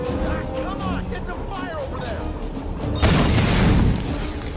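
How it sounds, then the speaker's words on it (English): Molotov cocktails burst in the video game Tomb Raider (2013), a sudden loud fiery whoosh and crackle erupting near the end over busy game sounds, with voices heard earlier. "You're kind of missing me with your Molotovs."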